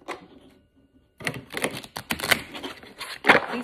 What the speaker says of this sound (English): These cards, it's hard as stuff to shuffle.